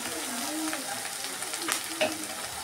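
Onion and tomato sizzle in a pan, a steady close frying crackle broken by a few sharper spits and stirring scrapes, with no voices.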